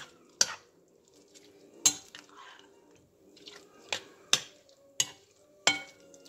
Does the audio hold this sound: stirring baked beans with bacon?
yes